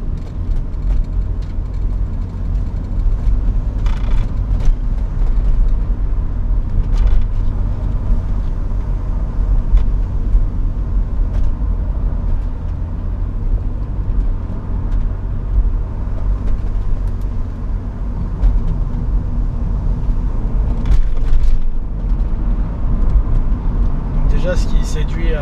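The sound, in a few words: BMW 323i E36 inline-six 2.5 litre engine while driving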